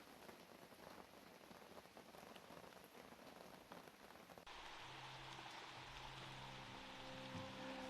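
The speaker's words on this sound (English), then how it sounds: "the rain decided to set in." Rain falls steadily at a campsite, a dense even patter on surfaces nearby, shifting partway through to a fuller drumming wash with a low hum underneath.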